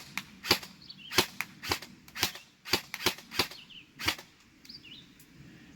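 Airsoft gun firing test rounds in a string of about ten sharp, snappy pops at uneven spacing, close by and with no talking, some faint chirps in the background.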